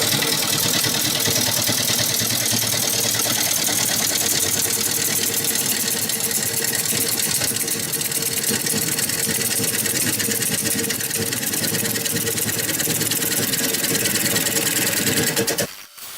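A wood lathe spins a broken-top bowl blank at 620 RPM, giving a steady, loud mechanical whir and hum that runs unbroken at close range before cutting off abruptly at the end.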